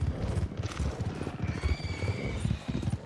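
A horse in the video game Red Dead Redemption 2 whinnies sharply while hooves clip-clop in a steady, close rhythm underneath, with the neigh rising high and fading midway.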